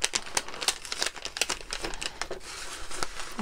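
A parcel is unpacked by hand, its plastic packaging crinkling and rustling in quick, irregular bursts close to the microphone, with no voices over it.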